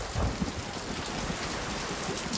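A thunderstorm brings dense, steady rain pattering on surfaces with a low rumble of thunder underneath, loud and continuous throughout.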